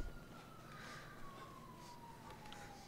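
Police siren wails in Grand Theft Auto V, a steady tone sliding slowly downward at a distance, faint beneath game ambience.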